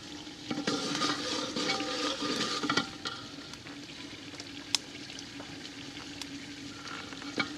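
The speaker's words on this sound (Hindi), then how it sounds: "मटन की भुनाई करते हुए मुझे 10 मिनट हो गए हैं।" Mutton sizzles and fries in a pot while being stirred, degi style, a close, steady hiss with scraping stirs early that settles into a quieter sizzle with occasional clicks.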